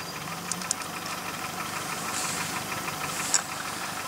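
Boat motor idling with a steady low, rumbling mechanical drone, faint and continuous throughout, with a couple of small clicks and knocks on top and no voices.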